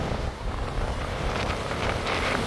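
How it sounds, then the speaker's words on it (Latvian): Steady wind buffets the microphone with a rumbling roar, mixed with the broad hiss of sea surf nearby; no one speaks. "Tāds vējš kā parasti."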